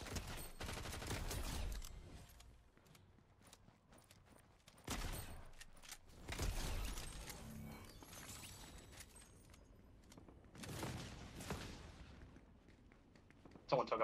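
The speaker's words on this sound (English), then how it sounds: "Someone took a pot shot at me." Scattered Fortnite gunfire in several bursts and single shots, some loud and near, others fainter, mixed with people talking.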